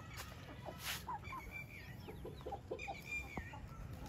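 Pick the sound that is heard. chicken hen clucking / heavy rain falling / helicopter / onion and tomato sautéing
chicken hen clucking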